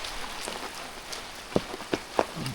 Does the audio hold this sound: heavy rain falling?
yes